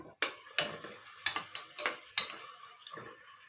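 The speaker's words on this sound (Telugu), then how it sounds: "మనకి ఇప్పుడు ఆనియన్స్ బాగా ఫ్రై అవ్వాలి" Onions fry in hot oil in a pan for paya curry, with several crisp stirring scrapes and clinks of a spoon against the pan over a soft, steady sizzle and no talk.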